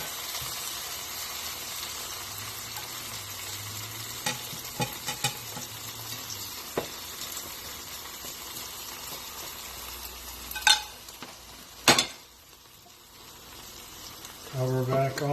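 A flour-free veggie chun sizzles steadily in a pan, a constant close frying hiss broken by a few knocks and clattering scrapes of the pan and plate, with a low voice briefly underneath.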